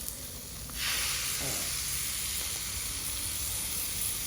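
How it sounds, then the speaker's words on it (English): Ground meat goes onto a hot griddle and sizzles for a bruschetta chicken sandwich. A bright, steady hiss swells in under a second and then holds at an even level. No one speaks. "Gonna get this out of the package and onto the grill."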